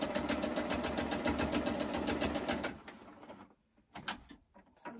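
Sewing machine running a straight seam across a pleated fabric mask, a fast steady whirring stitch for nearly three seconds, then stopping and leaving faint handling noises.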